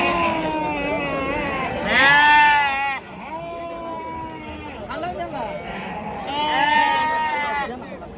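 Sheep bleating at a large goat, sheep and poultry market in Maharashtra, two loud close bleats rising over a crowd's chatter, with people talking nearby between them.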